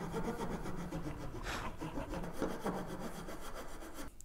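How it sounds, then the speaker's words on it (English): A hand tenon saw cuts down a wooden tenon toward the baseline, giving a steady, close rasping of back-and-forth strokes that continues without pause. "you could also use your tenon saw, obviously, and just nibble away at the back, lower the saw down"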